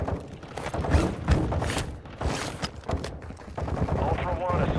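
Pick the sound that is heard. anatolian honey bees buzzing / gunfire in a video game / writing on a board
gunfire in a video game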